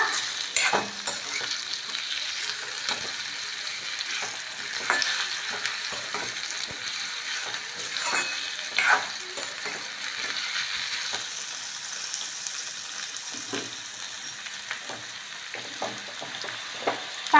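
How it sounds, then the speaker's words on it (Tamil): Onions frying in a pan for a village-style tomato kadaisal, with a steady broadband sizzle and occasional spatula scrapes and stirs throughout, close and continuous with no voices. "பாருங்க இப்போ வெங்காயம் நல்லா வெந்துட்டு இருக்கு இன்னும் கொஞ்சம் வேகட்டும்"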